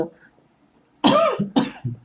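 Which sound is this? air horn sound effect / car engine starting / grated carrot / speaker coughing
speaker coughing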